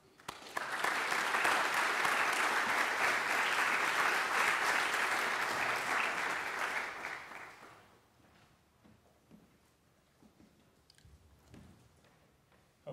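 An audience claps loudly and continuously to welcome lecturer Craig Scott at an autumn lecture series. The dense applause holds for several seconds, then fades out into a quiet room.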